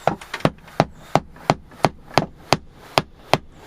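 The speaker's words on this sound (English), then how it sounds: "let me just double check before I hammer it all in" Nails are hammered into a wooden shelf in a workshop: a steady series of about nine sharp, close hammer blows, evenly spaced under a low background hum.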